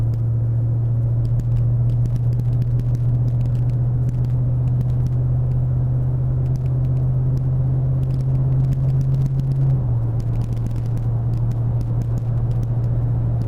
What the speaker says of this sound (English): I'm just going to pull out here and accelerate kind of not overly hard and see where it shifts